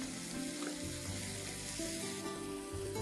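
Chopped green onion sautés in a pan with capsicum for a stuffed omelette roll, making a close, continuous sizzle and fry with faint stirring, and no talk.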